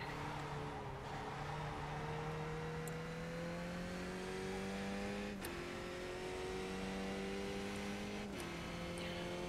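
A race car engine in the iRacing sim screams steadily through a lap, its pitch climbing under throttle and dropping sharply at gear shifts near one, five and eight seconds, with a constant loud drone throughout.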